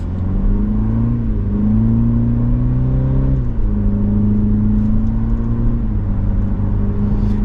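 A 2024 Cadillac CT4 Luxury AWD with an 8-speed automatic pulls away from a stop. The steady engine drone climbs in pitch, drops once at an upshift, then rises again, with a constant road and cabin rumble underneath.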